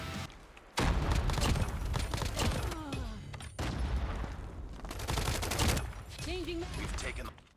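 Assault rifle fire in Call of Duty Mobile comes in rapid automatic bursts, loud and close, with short gaps between volleys and a voice speaking over parts of the fire.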